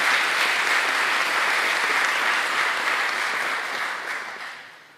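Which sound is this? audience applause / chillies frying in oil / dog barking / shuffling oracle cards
audience applause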